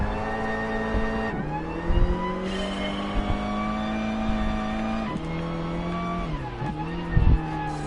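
A race car in the GT Sport video game drives through gears with a loud engine note that climbs in pitch, drops on each shift and climbs again, with brief tire squeal bursts and no talk.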